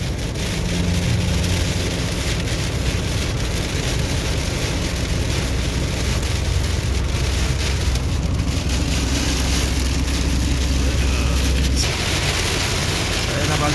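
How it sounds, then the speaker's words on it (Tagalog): Heavy rain falls steadily in Saudi Arabia, a dense, even hiss that holds throughout with a low rumble of road traffic or wind beneath it. "Ayan o, ang lakas na talaga ng ulan."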